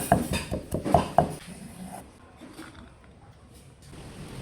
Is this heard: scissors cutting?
no